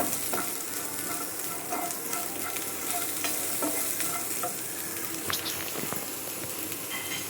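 Food frying and being stirred in a pan over a low flame for Mangalore-style small fish preparation, a steady close sizzle with scraping stir strokes and light crackles throughout, no voices.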